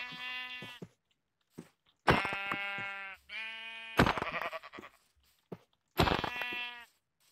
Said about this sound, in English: I'm lucky and I have a lot of sheep.